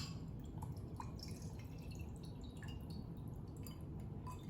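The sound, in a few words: pouring drink over ice into Aperol glass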